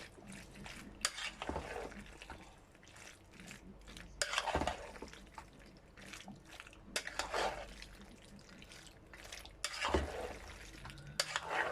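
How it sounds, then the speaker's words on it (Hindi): A spoon stirs pasta and vegetables through a thick white sauce in a pan, giving wet squelching scrapes and clinks that come in irregular bursts. The sound is close and moderately loud, with no talking. "अब मैं इसको अच्छे से मिक्स कर लूँगी।"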